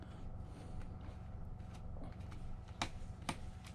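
On an Alienware M15 laptop, the RAM retention clips release with two crisp clicks about half a second apart near the end, after soft handling noise and a steady background hum.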